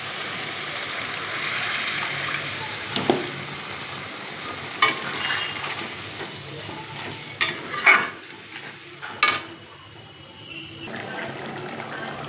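Water is poured into a pan of frying potatoes for a catfish curry, bringing a sustained sizzle and hiss with a few sharp splashes and stirring clatters, heard close up without talking.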